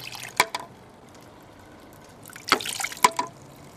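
Water trickles and leaks from a bamboo shishi-odoshi fountain, with a few distinct drips and small splashes standing out over a faint, steady background trickle, close by and quiet.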